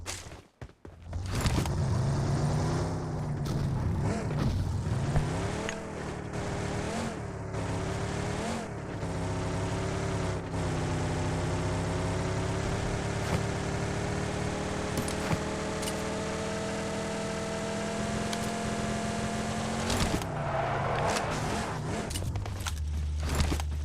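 A car engine drones steadily while driving along, a sustained hum with gradual shifts in pitch as it accelerates and settles, heard close and continuous for the whole stretch.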